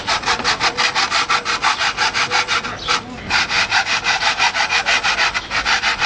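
A hand saw cuts through a Leader 725 bicycle frame with loud, steady back-and-forth strokes, about twenty rasping passes in quick rhythm with one brief pause midway, close up and with no talking.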